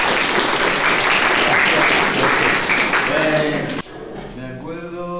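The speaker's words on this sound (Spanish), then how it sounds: "¿Le pueden dar un aplauso," An audience applauds a teacher being introduced at a social performance event, with dense steady clapping that cuts off near the end as voices take over.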